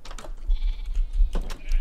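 Sheep bleat in a video game with wool farming, several short bleats over a low rumbling background with clicky game noises, moderately loud and close.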